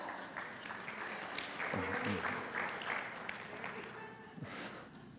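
Audience applause at a church talk, a burst of clapping with some voices mixed in, rising and fading over a few seconds at moderate distance.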